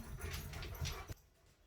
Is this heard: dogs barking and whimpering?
yes